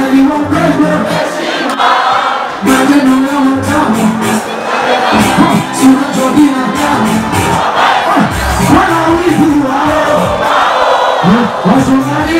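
A large concert crowd at the Fiesta Tour in Mwanza roars and cheers continuously, loud and close, with shouts and whoops rising in waves for several seconds.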